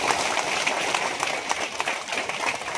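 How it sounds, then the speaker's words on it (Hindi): An audience at a public event with the state governor applauds, a dense patter of many hands clapping fairly faintly and continuously throughout, with no talk over it. "जोरदार तालियों से उनका स्वागत करने और अभिनंदन करें।"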